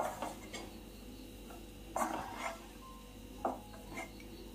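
A spatula scrapes and stirs a thick banana snack mixture in a pan, with a few soft, separated scrapes and taps against the metal in an otherwise quiet kitchen.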